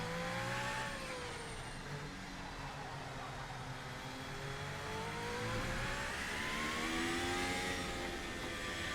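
An F1-style car engine in the VRC Formula Alpha 2025 sim racing game revs continuously, its pitch sweeping up and down through the gears as the car warms up, with a steady loud whine throughout.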